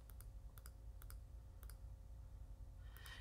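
Computer mouse clicks while working in Cricut Design Space, heard as faint quick double clicks repeated about four times over a low background hum.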